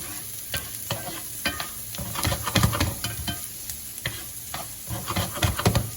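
Bacon frying in a hot pan for a creamy mushroom fettuccine, a close crackling sizzle broken by frequent sharp pops and spatters.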